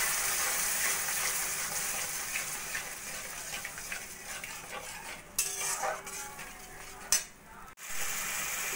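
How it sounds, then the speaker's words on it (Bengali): Yogurt is stirred into a spice masala in a pan over a low flame. A broad soft sizzle runs under quiet scraping and a few clinks of the spoon, close by and fairly faint. "এবার লো ফ্লেমে আমি মশলার সঙ্গে ভালো করে মিশিয়ে নেব।"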